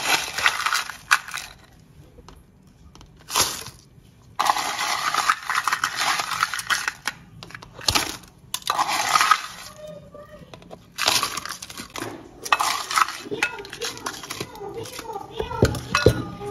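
Ice cubes tumble into drink glasses in several loud, clattering bursts separated by short quiet gaps.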